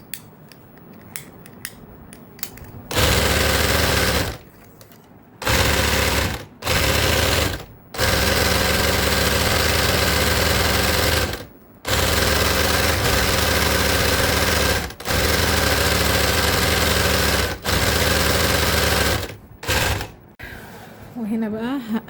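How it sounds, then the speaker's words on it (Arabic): A sewing machine stitches a cord clutch bag in long, loud, steady runs of rapid needle hammering, broken by short pauses, with quiet handling noises at the start. "هكمل 3 سطور بالخيط الابيض بس"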